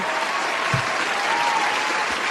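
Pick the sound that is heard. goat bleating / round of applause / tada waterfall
round of applause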